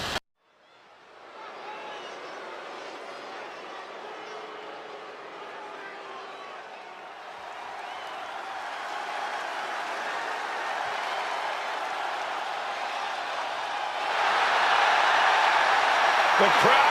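Wrestling arena crowd at a Nikki Bella win, a broad sustained roar of cheering and applause that starts softly, builds steadily and surges louder near the end, with no one talking over it.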